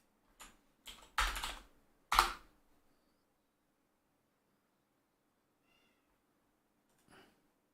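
A pet cat wanting to go out gives a few short, close meows and soft clicking sounds in quick succession, then falls quiet apart from one faint sound a few seconds later.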